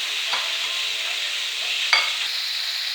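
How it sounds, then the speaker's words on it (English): Chicken necks frying in a full pot for a Jamaican meal give a steady, close sizzle with a few sharp pops and crackles scattered through. "My pot full now, and you just leave that, make it go and fry."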